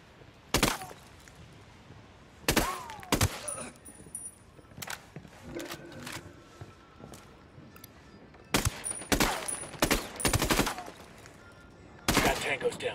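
Gunfire in the Ghost Recon Wildlands video game comes as several sharp, loud bursts of automatic fire separated by quieter gaps, some rapid clusters, with voices talking in between.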